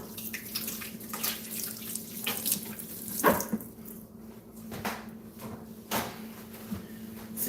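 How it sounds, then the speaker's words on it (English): Hands are washed under a running faucet at a sink, with a steady, close stream of water broken by splashes and a few louder knocks. "Well, let me wash it again."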